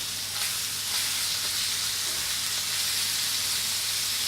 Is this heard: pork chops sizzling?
yes